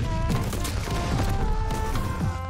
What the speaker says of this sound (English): I killed somebody with a grenade.